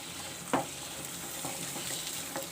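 Capsicum (shimla mirch) frying lightly in a spoonful of oil for keema, a steady soft sizzle with a brief louder stir or clatter near the start, no voices.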